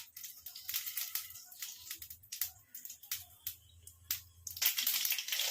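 Sharp crackling pops and sputters from mustard seeds bursting in hot oil, irregular and close, coming in quick clusters with brief gaps between.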